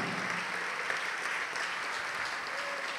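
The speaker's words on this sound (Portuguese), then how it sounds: "Vamos aplaudir mais ao nome de Jesus" A church congregation applauds at a worship service, dense, loud and sustained clapping filling the space evenly from start to finish.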